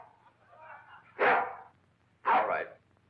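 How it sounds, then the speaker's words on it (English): A dog barks twice in a courtroom, two loud separate barks about a second apart, with faint murmuring underneath in an old film. "Get that dog out of this courtroom."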